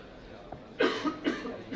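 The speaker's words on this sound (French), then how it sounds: "qui c'est qui tousse derrière?" A few short, harsh coughs in a quiet room, spaced irregularly, with faint background murmur.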